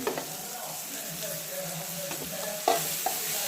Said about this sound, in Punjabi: ਟਮਾਟਰ ਪਾ ਕੇ ਆਪਾਂ ਇਹਨਾਂ ਨੂੰ ਥੋੜਾ ਜਿਹਾ ਭੁੰਨਾਂਗੇ